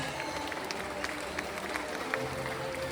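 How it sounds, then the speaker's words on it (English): An audience at a bird show with flying macaws at Cebu Safari claps in a moderate, fairly even patter of applause, heard at some distance with crowd murmur beneath. "a round of applause for our flying macaws"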